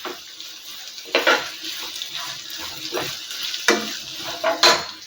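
Onions frying in a pan until lightly brown for lemon chitranna rice, a steady soft sizzle with intermittent scraping stirs and clinks from a spoon, close by and moderately loud.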